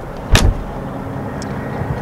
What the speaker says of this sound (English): I've got to do the thing where I shut the door and let you listen to it